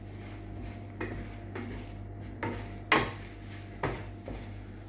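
A utensil scrapes and knocks against a Tefal non-stick frying pan in a series of short scrapes and clinks, close and fairly quiet, with a steady low kitchen hum underneath.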